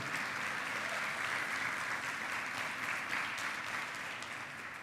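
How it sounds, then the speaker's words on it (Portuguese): A church congregation applauds steadily during a family worship service, a dense, even wash of many hands clapping that holds at the same level throughout with no voices rising above it. "Dá um aplauso e um glória a Deus bem forte ao Senhor"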